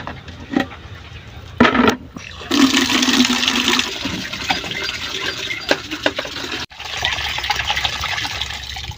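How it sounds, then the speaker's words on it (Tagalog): Water gushes steadily from an outdoor household tap as a container is filled, loud and close, with a few clanks and brief interruptions in the flow. "Mag-iigib muna ako dito sa gripo namin."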